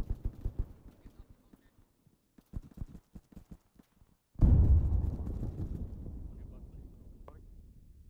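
Frag grenade going off in the ArmA 3 video game: sharp scattered gunshots and taps first, then one heavy blast with a long rumbling decay, quiet voices in between.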